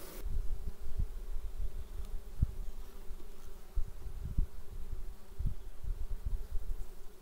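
A steady, low insect drone of many honeybees humming together inside a hive, close and continuous, with occasional soft knocks and thumps underneath.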